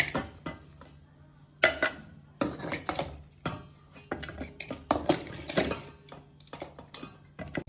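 Boiled chicken is moved into a bowl in a home kitchen, with metal utensils clattering against cookware in irregular clinks and scrapes, quiet but close, with short silent gaps between bursts.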